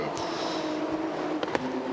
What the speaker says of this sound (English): In comes the Team 99 racing car.